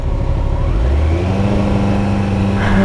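A 2016 Kawasaki ZX14 motorcycle, lowered and with a flashed tune, revving its engine up close: a loud, steady mechanical roar that climbs in pitch toward the end, with no voices over it.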